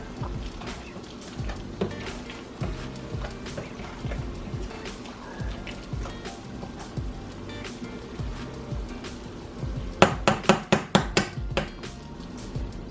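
A metal spoon clanks against a pot while stirring creamy, lumpy mashed potatoes, a run of sharp clinks bunching into a quick loud flurry near the end, close by.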